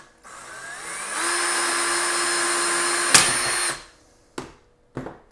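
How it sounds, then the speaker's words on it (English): A power drill bores a hole in the back of a 12 ft Home Depot skeleton decoration, whining steadily for a few seconds close up, followed by two short sharp knocks. "So I'm gonna drill my hole here on the back side."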